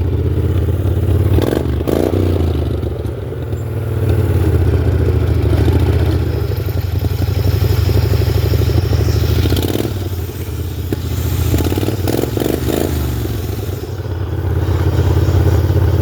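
A home-built build-off tractor nicknamed Buckshot drives along in second gear, its engine chugging with a steady low rumble and mechanical clatter, the note swelling and easing a few times without any talk.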